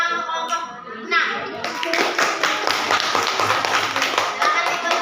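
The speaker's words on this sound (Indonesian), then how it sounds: "terima kasih tepuk tangan untuk kelompok" A group of people, likely children in a classroom, clapping their hands together in a fast, close, fairly loud burst, with scattered voices underneath.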